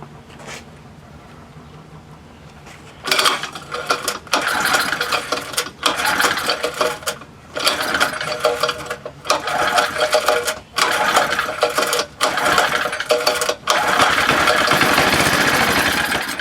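A 1961 Briggs & Stratton small engine with an oil-soaked muffler sputters to life after a quiet start, then runs loud and rough with brief cutouts and surges, close by.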